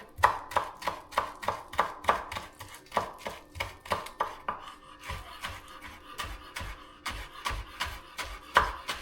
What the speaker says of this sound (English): So this is already pre-washed green onions. We're gonna chop that up.